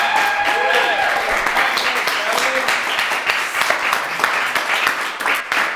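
Audience applause for comedian Dion Arnold at a stand-up comedy show, steady clapping from a crowd running throughout, with some voices and cheering mixed in.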